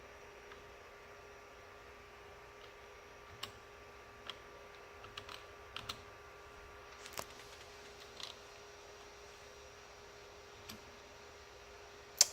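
Computer keyboard typing on a Raspberry Pi project: faint, scattered key clicks in irregular bursts over a quiet hum.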